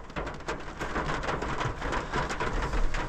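Heavy rain pours in a steady, dense hiss with scattered patters and splashes, loud and close, and nobody speaks.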